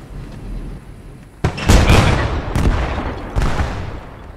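A tank cannon fires in the World War II shooter Post Scriptum: a sharp, loud blast followed by a rumbling tail, then two further heavy reports about a second apart, over a low engine drone.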